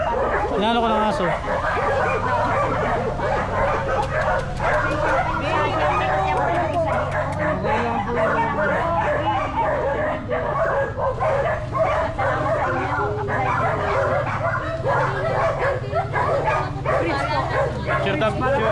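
Several dogs at an animal shelter bark and yip over a steady hubbub of people chatting, with occasional whimpers mixed into the continuous busy din.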